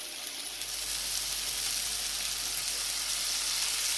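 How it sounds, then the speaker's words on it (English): Vegetable fried rice sizzles steadily in a hot pan as soy sauce goes in, a loud, even frying hiss running throughout with no talking. "at this point now I'm going in with 1 tablespoon of soya sauce"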